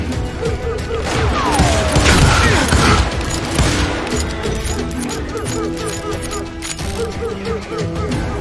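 Gunfire rings out in the Western shooter Call of Juarez: Gunslinger, with dense volleys and crashes piling into a loud, sustained barrage that eases toward the end, while shouting voices carry over the fight.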